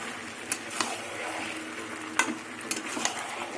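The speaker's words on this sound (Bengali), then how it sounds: "ডালটা ভেজে দিয়েছি একদম বড়ির মতন গন্ধ বেরোবে" Biuli dal (split urad lentils) frying in a pan for a vegetable curry, a soft continuous sizzle broken by a few sharp scrapes and taps of the spoon as it is stirred.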